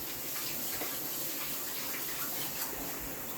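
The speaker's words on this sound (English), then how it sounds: "I'm going to wash my hands quickly" Hands being washed under a running tap in a kitchen, a steady close rush of water alone without pause.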